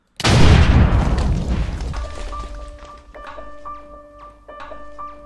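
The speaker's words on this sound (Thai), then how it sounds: "ว้าวระเบิดเบล็อกได้ด้วยอะ" An explosion blows up blocks in the Minecraft video game, opening with a loud sudden blast that rumbles and fades over about two seconds, followed by quieter tonal game sounds and faint clicks.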